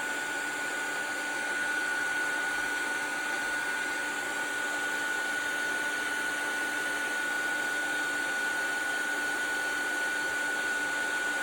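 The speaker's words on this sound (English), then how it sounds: "So I just move my tool down as it embosses." A heat embossing tool blows steadily as it melts Tim Holtz Ideaology embossing powder, a constant close whirring hum with a faint high whine that runs unbroken throughout, with no talking.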